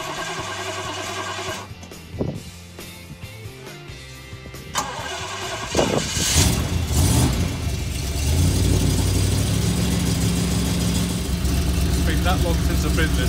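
A Triumph Stag car engine cranks with a few halting turns, then catches and revs up hard, settling into a loud, steady running note, with a voice speaking over the early cranking.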